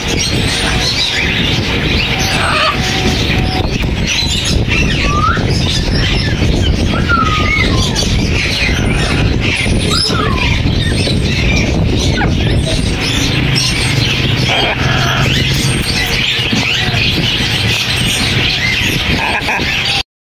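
At a busy Sunday bird market in Bahawalpur, orange-winged amazon parrots and other caged birds keep up a constant, dense din of squawks, chirps and whistles, with faint background murmur throughout.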